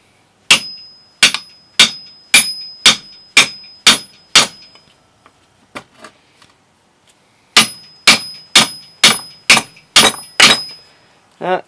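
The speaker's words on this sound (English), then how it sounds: "May need to resort to a bigger hammer." Two bursts of sharp metallic hammer blows on a stuck rear wheel hub of a 1975 Suzuki GT750 motorcycle, about seven evenly spaced ringing clangs each, separated by a short quiet pause.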